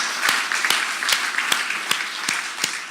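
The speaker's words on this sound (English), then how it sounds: "let's have a round of applause for the state of" Audience applause at a California climate summit, a dense wash of clapping with a few sharper individual claps standing out at a steady rhythm.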